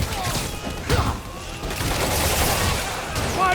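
Gunfire in Spider-Man Remastered, with loud rapid bursts of automatic fire and dense crashing impacts rolling continuously through a chaotic combat scene, some shouted voices mixed in underneath.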